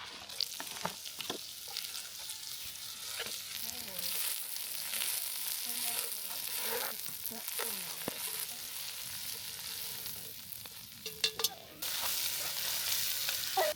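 Onions and jalapenos sizzle and fry in a pan over a fire, a continuous crackling hiss with occasional stirring clinks and scrapes, fairly close.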